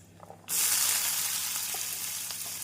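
After a brief quiet moment, chopped onions drop into hot oil with dried red chillies, giving a sudden loud sizzle that keeps hissing steadily.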